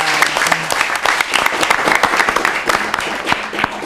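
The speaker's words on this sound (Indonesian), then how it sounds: "Tepuk tangan untuk beliau." Loud, close applause from a group at a gathering in a house, many hands clapping in a busy continuous patter with a few faint voices mixed in.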